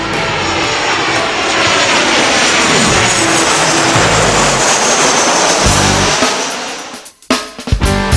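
A WestJet passenger airliner's engines drone steadily and loudly in flight, a broad continuous roar that fades and breaks up near the end.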